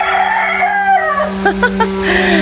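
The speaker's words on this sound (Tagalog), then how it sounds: "Ang manok na puti. Ala, ang ingay nila." Chickens clucking and squawking close by, loud and busy, a short burst of rapid clucks following a drawn-out call.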